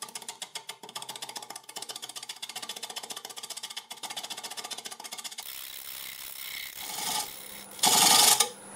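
Lathe facing cut on a green, wet wood bowl: a rapid, rasping chatter of the tool against spinning wood runs for several seconds, then gives way to rougher scraping and a sharp loud burst of shavings near the end.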